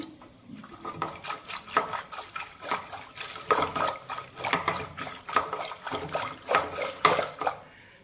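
Hot water is poured from a mug into boiled dal in a cooking pot, making an uneven splashing, gurgling pour with light clinks of metal, close and moderately loud.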